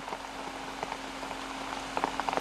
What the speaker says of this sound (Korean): 7월 중순 지리산에 장맛비가 내리고 있다.